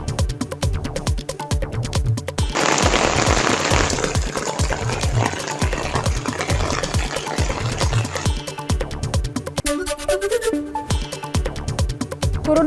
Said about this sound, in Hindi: पहाड़ों पर हो रही है जबरदस्त बारिश से तापमान में गिरावट।